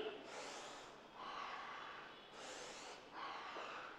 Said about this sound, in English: We are taking a breath